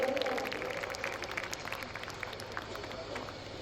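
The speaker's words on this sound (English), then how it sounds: "All of you, please clap, all of you." Graduation ceremony audience applauding for a gold medal MBA graduate, a steady wash of many hands clapping at moderate distance throughout, with an announcer's voice and crowd murmur over it.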